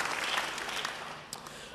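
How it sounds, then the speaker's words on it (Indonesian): A church congregation applauds during an Indonesian-language sermon, a quiet, steady patter of clapping that fades slightly toward the end. "Beri tepuk tangan yang baik bagi dia."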